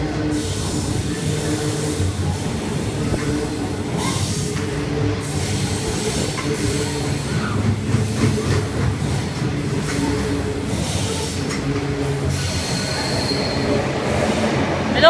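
A loaded coal train rolls past at Cheltenham, a steady loud rumble of heavy wagons with wheel squeal and faint clickety-clack running throughout, close by and without talk.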